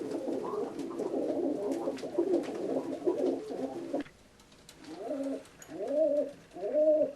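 Cooing from a Budapest short-beak show pigeon, a black male from 2009: repeated close, throaty rolling coos in a steady run, with a busier burst first, then three distinct rising-falling coo phrases after a brief pause.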